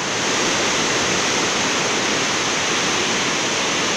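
A flooded river roars through the town of Kutaisi, Georgia, a loud, steady, dense rush of water that fills the whole soundscape without pause.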